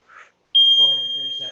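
Training timer at a jiu-jitsu session going off: a brief murmur, then a sharp, sustained electronic beep rings out loud and steady while a voice talks underneath it.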